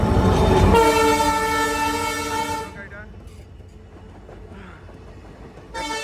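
A train on the Lumding Division railway blasts a loud, sustained horn as it passes, then fades to a quieter rolling rumble before a second horn sounds at the very end.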